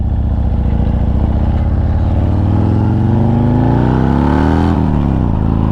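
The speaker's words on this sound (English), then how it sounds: "I just hit the throttle a little bit." A Harley-Davidson motorcycle engine, loud and close, rumbles steadily and then revs upward as the throttle opens, pitch climbing over several seconds before dropping back near the end.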